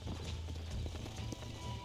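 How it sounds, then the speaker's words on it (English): Horse hooves clip-clop in the game Red Dead Redemption, a steady rhythmic trot of close, muffled hoof beats over low background rumble. "Mount your horse."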